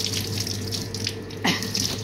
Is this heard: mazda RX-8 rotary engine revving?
no